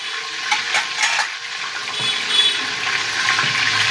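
Garlic dropped into hot oil and ghee sizzles and crackles steadily, a bright hiss that holds throughout, with small splashy pops near the start.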